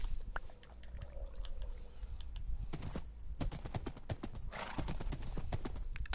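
Horse hooves clip-clop in Minecraft Bedrock on PS4, a run of sharp, evenly spaced clicks that speed up and grow denser toward the end, close and clear with no talk over them.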